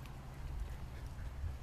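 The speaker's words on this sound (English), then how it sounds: "Look, more ducks. Hey, ducks." Ducks quack faintly at an outdoor spot on the 4th of July, the calls low and mixed into steady ambient rumble.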